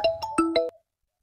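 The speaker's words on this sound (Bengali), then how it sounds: "রাক্ষসীটা আবার ফোন করেছে" A mobile phone ringtone for an incoming call, four quick bright melodic tones rising and falling, close and clear, ending abruptly into silence.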